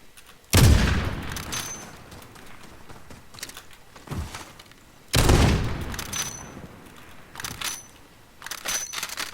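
Rifle gunfire in the video game Call of Duty Modern Warfare Warzone, two loud heavy shots each trailing off in a long rumbling decay, followed by lighter clicks and handling noises.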